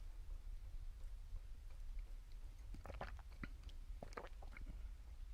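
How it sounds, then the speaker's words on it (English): Sips of cold mint tea slurped close to the mic: a few short, wet, scattered bursts over a quiet low background hum. "hope you guys didn't hear that slurping too much"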